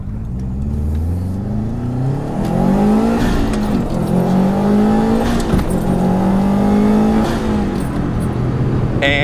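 A car with a freshly repaired clutch and exhaust headers accelerates hard from inside the cabin, the engine note climbing through several gears in rising sweeps, with brief dips at each shift, loud and alone.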